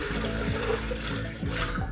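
Water pours steadily into an Almond Cow plant milk maker, a continuous splashing rush that stays loud and close for the whole short stretch, with no one talking.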